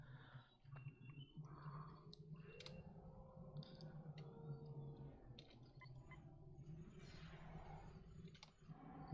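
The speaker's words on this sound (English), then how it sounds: "Working. Typewriter noises." Faint, scattered electronic clicks and chirps, like a computer at work, sound over a low steady hum aboard a starship in Star Trek Online.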